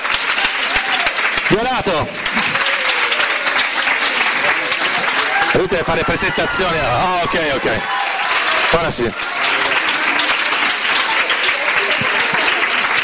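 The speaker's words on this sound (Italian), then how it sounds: "facciamo un grande applauso forte, così più forte" Loud, dense audience applause fills a music showcase at a Feltrinelli bookstore. It roars steadily throughout while people talk over it and a few cheers rise in the middle.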